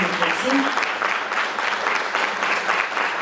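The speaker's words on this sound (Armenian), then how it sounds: "Եվ ուզում եմ բարձր ծափահարենք" Loud audience applause at a vocal studio solo concert, sustained crowd clapping with a rhythmic pulse throughout, a few voices mixed in.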